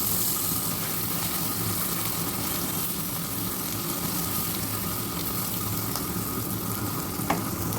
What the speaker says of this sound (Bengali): আমি রসুন পেঁয়াজের সঙ্গে আমি প্রথমে ডিমটা ভেজে নিয়ে সামান্য একটু হলুদ দিই